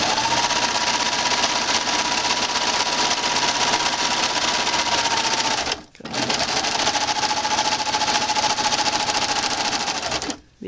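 A sewing machine stitches a bag near a Velcro patch, running in a loud, steady whir that breaks off briefly around six seconds, restarts and runs on to a second short stop at the end.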